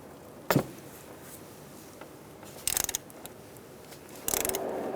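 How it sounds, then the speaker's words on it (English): A ratchet with a 19mm socket works on the coolant temperature sensor of a 2010-2013 Kia Soul 2.0L four-cylinder, giving three short bursts of metallic clicking separated by quiet, close and moderately loud. "You're going to use a 19mm socket, slide it onto the sensor,"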